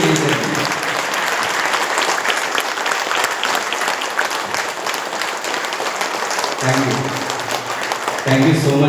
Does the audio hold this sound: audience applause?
yes